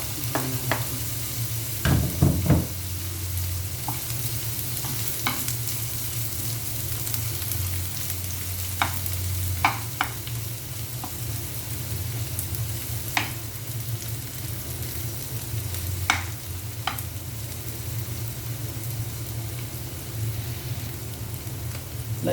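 Ginger and onion sizzle in a pan while being stir-fried, a loud continuous frying hiss with scattered spoon scrapes and a clatter near the start, and no voices.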